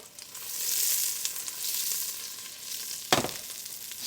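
Butter fries gently in a pan over low to medium heat, giving a soft, continuous sizzle with a brief louder clatter near the end.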